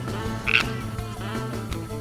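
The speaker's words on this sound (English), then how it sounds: "cue the frogs" Frogs croak in a rhythmic, repeating chorus of low pulsing calls, fairly close and steady, with a brief higher squawk near the start.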